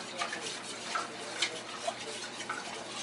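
Old-fashioned wire whisk stirring orange dreamsicle pie filling in a bowl, a steady soft swishing with faint clinks against the bowl's side, quiet and close, no voices.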